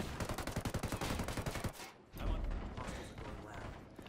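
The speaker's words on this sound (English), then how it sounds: "Lobbing a flashbang." Rapid gunfire rattles in a tight burst during a tense trainyard firefight in a video game, followed by a heavy, booming detonation that rolls on under lingering rumble.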